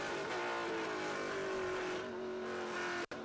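Trans Am race car heard onboard at Watkins Glen, a loud, steady, high engine drone with strong harmonics held at racing speed, briefly dropping out near the end.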